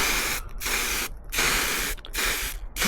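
A spray gun applying lacquer to Triumph motorcycle parts gives four close, loud hissing bursts, each lasting over half a second with short gaps between.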